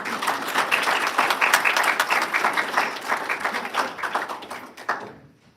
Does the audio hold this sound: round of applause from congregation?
yes